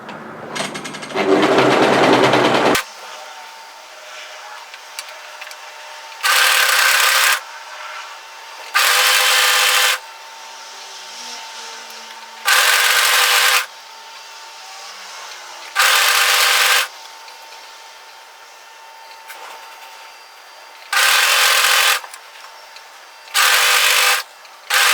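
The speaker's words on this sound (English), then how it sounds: "When you do pass over that seam, make sure your overlocking is facing in different directions" An overlocker sews across a hoodie seam in about seven short whirring bursts of a second or so each, with quiet pauses between them, close and loud with no talk.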